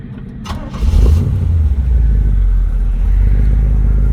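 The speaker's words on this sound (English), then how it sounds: "350 Chevy small block. It's built up a little bit with a mild competition cam, street cam. Got a nice sound to it" A 1956 Chevrolet with a built-up 350 small-block V8 and mild competition street cam idles with a loud, steady low rumble after a brief start-up surge, running alone throughout.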